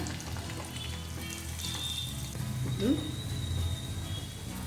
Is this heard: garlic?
yes